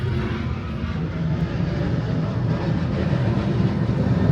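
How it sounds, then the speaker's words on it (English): Fixed-wing airplane taking off near the Irish coast, a steady, distant engine roar with a low rumble that swells slightly over several seconds, heard alone without speech. "There's a plane just coming."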